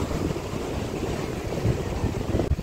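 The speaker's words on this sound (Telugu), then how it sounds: "అలలు ఎలా వస్తున్నాయి చూడండి, చాలా బీభత్సమైన అలలు అయితే వస్తున్నాయి చూడండి." Rough sea waves at Dhanushkodi beach, a constant loud wash of surf mixed with heavy wind buffeting the microphone, without a break and no voices.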